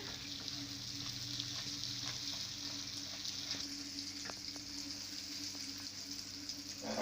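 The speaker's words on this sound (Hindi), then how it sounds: "तो बटर को मेल्ट कर लेंगे।" Two tablespoons of butter melt in a pan while making a caramel cake on the stove, a soft, even sizzle with light bubbling that runs steadily throughout at low level.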